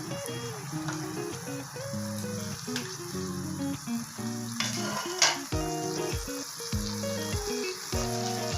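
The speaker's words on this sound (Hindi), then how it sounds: "अब इसमें मैं ये 2 टमाटर मैंने आपको बताए थे ये वो भी ऐड करने लगी।" Tomatoes hit frying chicken in a pan for a chicken roll paratha, giving a steady close sizzle with bursts of stirring and scraping, no talk.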